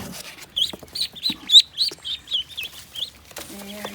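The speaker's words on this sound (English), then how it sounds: "we have now placed all 4 ducks and all 4 quail back into a nice clean brooder" Ducklings and quail in a brooder give a quick run of high, bright peeping chirps, close and fairly soft, ending with a brief clatter.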